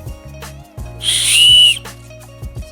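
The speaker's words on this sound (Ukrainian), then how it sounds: "Це вже у нас якийсь е, крутий свисток. Він у нас має два отвора." A shrill, high whistle blast from a two-hole survival whistle sounds once for about a second, loud and close, between quieter handling noises.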